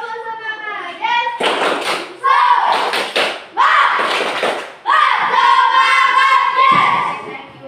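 Students in a classroom do a rhythmic spirit clap, loud bursts of claps and table thumps in a steady pattern, interleaved with children chanting together in unison.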